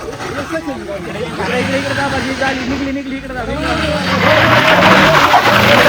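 A car engine revs and strains hard, tires spinning and whining over a rough, rain-damaged muddy road, loud and close, with people talking in the background.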